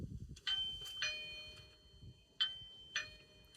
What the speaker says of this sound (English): the last test we're going to do is actually ring the doorbell